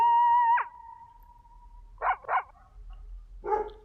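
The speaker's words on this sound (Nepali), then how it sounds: "साथीको घरको कुकुर भने जोर जोरले भुक्दै हामी आएको" A dog barks at night near a house, a long whining tone followed by three sharp, fairly loud barks spaced apart, with no talking.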